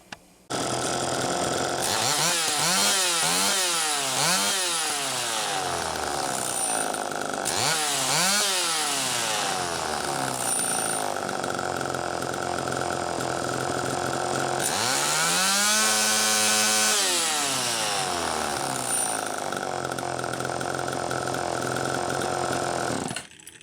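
A Homelite Super EZ chainsaw running on test with a carburetor struggling to move from low to high, its two-stroke engine revving up and falling back repeatedly, then holding a long high rev before cutting off, loud and close.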